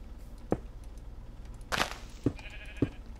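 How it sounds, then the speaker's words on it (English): Sheep bleating in the Minecraft video game: three or four short, distinct in-game bleats spaced through a quiet outdoor scene, with no talking. "Oh, and get some sheep too, bonus."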